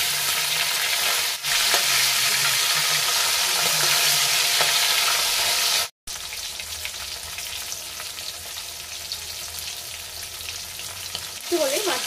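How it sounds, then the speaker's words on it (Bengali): Silver carp sizzles steadily as it fries in a pan, with a loud continuous crackle broken by a brief pause, and a stir or scrape near the end. "এবার মাছটা মনে হচ্ছে এক পিঠ হয়ে গেছে ভাজা"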